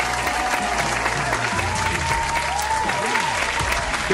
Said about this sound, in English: gotta clap it up, man